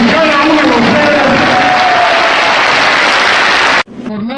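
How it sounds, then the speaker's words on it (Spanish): A crowd at a constitutional-rights event marking Women's Day gives loud, sustained applause mixed with some cheering. The noise cuts off abruptly near the end, and voices follow. "Un fuerte aplauso para todos y cada uno de ustedes."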